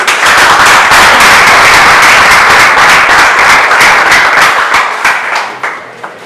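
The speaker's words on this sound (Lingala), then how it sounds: "On peut applaudir s'il vous plaît." A live audience applauds loudly and continuously at an event, a dense wash of many hands clapping that holds strong for several seconds, then thins and fades near the end.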